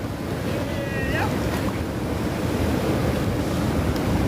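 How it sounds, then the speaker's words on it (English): A rogue ocean wave crashes in at the St Mikes surf break, a loud rushing surge of water over steady wind and surf noise, with a brief whistle-like tone near the start. "oh shit, rogue wave"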